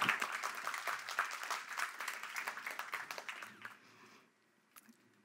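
An audience at a talk on animal intelligence applauds steadily, the dense clapping fading out over about four seconds into near silence.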